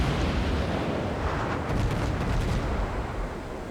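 Sustained heavy naval gunfire pounds an enemy destroyer in a warship battle game, a dense continuous roar of shell bursts and booming fire with no talk.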